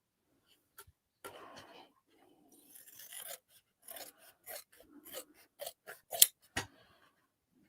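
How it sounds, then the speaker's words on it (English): Scissors snip repeatedly at close range, trimming loose threads on a handmade crossbody bag, giving a series of short, crisp cuts and light rasping rubs in a quiet room. "Just make sure I'm trimming back any loose threads as well as I'm going."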